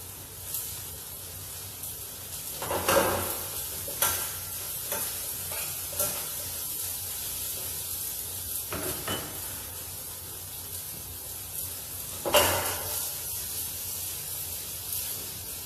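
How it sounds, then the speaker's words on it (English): Strips of green capsicum sauteing in a pan, a steady soft sizzle broken by several louder scraping stirs of a utensil against the pan. "Saute it nicely."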